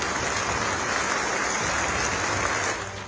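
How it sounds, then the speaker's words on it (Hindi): A large crowd claps steadily at a medal ceremony in Rashtrapati Bhavan, a dense, continuous wash of applause that fills the hall and tapers slightly at the end. "उस वक्त पूरा राष्ट्रपति भवन तालियों से गूंज उठा।"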